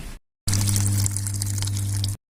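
Water running and splashing steadily while clothes are washed by hand, a continuous loud wash with a strong low hum, briefly cut off at the start.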